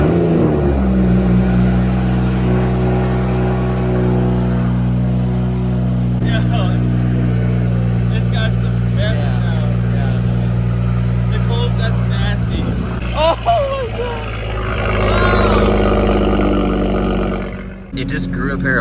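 A BMW 340i with a B58 turbocharged inline-six, fitted with a new intake and downpipe, revs loudly and steadily with a deep roaring drone, its pitch rising and falling as the throttle is blipped, while people talk over it.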